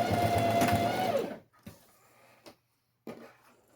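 Sewing machine running a quick burst of stitching on a seam of a boxy zip pouch, then stopping, followed by a few soft handling clicks and thumps nearby.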